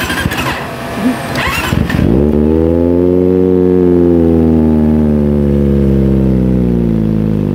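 Kawasaki Ninja ZX25R with an Austin Racing open-pipe muffler starts up after some brief handling noise, then settles into a loud, steady, raspy idle close by.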